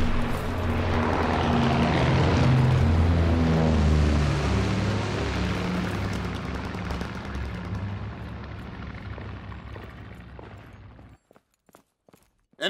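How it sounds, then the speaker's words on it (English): Enemy recon aircraft in a World War II shooter game, a loud, dense propeller roar that builds early, holds, then thins out and cuts off abruptly near the end, leaving a few faint clicks. "Enemy recon aircraft in the air."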